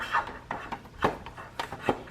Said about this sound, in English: Now I'm gonna run my wires through the center hole.